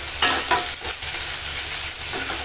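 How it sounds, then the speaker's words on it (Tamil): Chopped onion and curry leaves sauté in a pan, with a constant loud sizzle broken by repeated scraping stirs close by. "நான் ஒரு மீடியம் சைஸ் வெங்காயம் வந்து கட் பண்ணி வச்சுருக்கேன். அதையும் சேர்த்து வதக்கிக்கலாம்."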